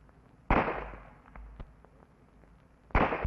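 Two sharp, loud gunshots ring out during police firearms training behind a barricade, about two and a half seconds apart, each with a short echoing decay into quiet.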